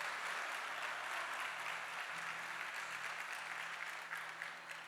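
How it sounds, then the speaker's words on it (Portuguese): A church congregation applauds during a Portuguese-language sermon, a continuous, even roar of clapping that stays steady and fairly distant for the whole stretch, with no voices over it. "Você pode aplaudir o Senhor?"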